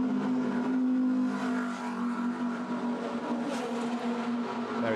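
A GT2 race car at the Misano circuit roars away from the pit lane under hard acceleration, its engine loud, close and steady for the whole stretch, with no voices over it.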